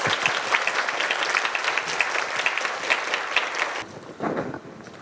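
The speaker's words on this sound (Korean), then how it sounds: "다시 한번 큰 박수 부탁드립니다." Dense, steady audience applause at a university forum lecture, sustained for several seconds before thinning out into a few scattered claps.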